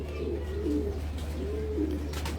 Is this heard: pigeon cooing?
yes